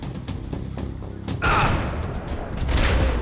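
Gunfire in the video game Max Payne 3: several quick thumping shots followed by a louder burst and a rumbling echo, close and forceful against background game noise.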